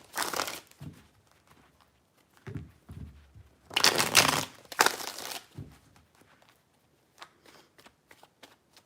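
Tarot cards are shuffled by hand in a few separate bursts, crisp riffling and rustling close up with quiet gaps between, ending in lighter taps and flicks.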